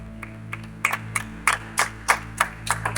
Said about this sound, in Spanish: Le da un aplauso.